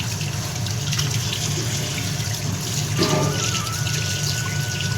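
Water runs steadily from a tap while rohu fish are washed, a constant close rushing with a brief splash partway through.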